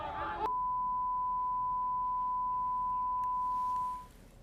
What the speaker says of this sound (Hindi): जिसे हम आपको सुना नहीं पाएंगे, इसीलिए हमने बीप कर दिया है उस लाइन को